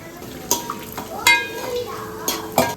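Onions sautéing in a pan for sambar during a home family feast, with a steady soft sizzle and several sharp clinks and scrapes of a stirring utensil against the pot.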